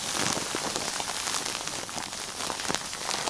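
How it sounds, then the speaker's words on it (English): Steady wind and rain sound effect laid down as a looped track for a scene soundtrack: dense, continuous hiss of rain striking a surface with a broad wash of wind, loud and unbroken throughout, with no voices. "So now I've got that wind and rain laid down twice"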